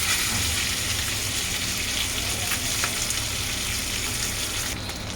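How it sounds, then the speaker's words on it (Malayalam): Fish coated in pepper masala fries in a pan with little oil, giving a steady, close crackling sizzle that holds evenly throughout with no talking. "നമ്മൾ വറക്കും തോറും ഇതിൻ്റെ അകത്തുനിന്ന് എണ്ണ പുറത്തോട്ട് വന്നുകൊണ്ടിരിക്കും"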